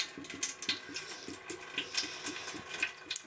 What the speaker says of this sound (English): opening up this trap and draining the rest of this water out of here